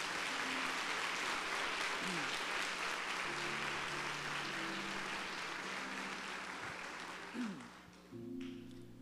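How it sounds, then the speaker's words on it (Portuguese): A church congregation applauds after a sermon reading, a dense sustained wash of many hands clapping that fades toward the end, with some voices underneath. "vamos aplaudir ao Senhor por esta palavra"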